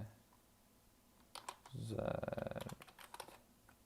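Rapid clicking of a computer keyboard while coding a website, a short burst of quick keystrokes close by, with faint speech-like sound mixed in around it.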